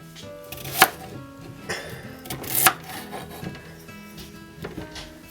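A knife cuts carrots into matchsticks on a wooden board, a few sharp, isolated chops standing out over quieter scraping and rubbing sounds, close and without talking.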